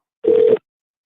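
A single telephone ringback tone from an outgoing call, one steady electronic beep lasting about a third of a second, clear and alone with silence on either side.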